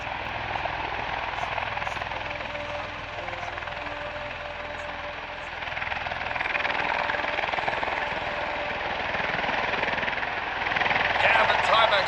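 A V-22 Osprey tiltrotor hovers nearby at an airshow in Ypsilanti, Michigan, with a loud, continuous rotor roar and whine that swells slightly toward the end; a voice may be faintly present underneath.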